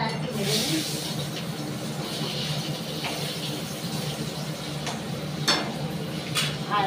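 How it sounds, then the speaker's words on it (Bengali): Fish frying in a pan alongside an egg curry in a home kitchen, a steady dense sizzle running throughout with small clinks and taps from the pan and utensils. "এবার এদিকে আমি মাছটা আজকে ভেজে নিই।"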